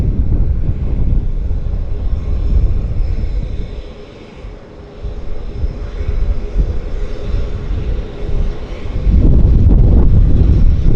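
A WestJet airliner on its takeoff roll at Vancouver airport, a steady loud engine roar with wind buffeting the microphone, dipping briefly in the middle and swelling again near the end.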